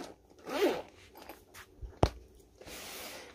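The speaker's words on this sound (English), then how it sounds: "So let's just unzip it" The zippered case of a soldering iron kit is opened with a close, quiet zip pull, followed by soft rustles, a sharp tick and a longer rasp as the zipper runs around the case.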